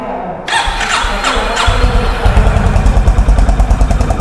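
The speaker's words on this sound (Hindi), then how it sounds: "आप एग्जॉस्ट नोट सुन रहे हैं कि एक बेहतरीन एग्जॉस्ट नोट, कुछ इस तरह से इसका एग्जॉस्ट नोट है होंडा हाइनेस का" A Honda Highness CB350 motorcycle's exhaust note is heard loud and close as the engine catches and settles into a deep, thumping single-cylinder idle with a steady pulsing beat, without speech.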